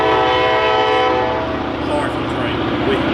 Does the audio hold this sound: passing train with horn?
yes